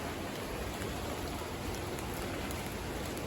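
Steady rain falling, an even, dense hiss of drops with no pauses.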